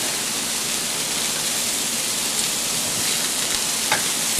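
Meatballs for an Italian meatball tortellini soup brown in a hot pan with a loud, steady, hissing sizzle that runs unbroken throughout, free of speech.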